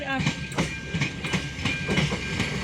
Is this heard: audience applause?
no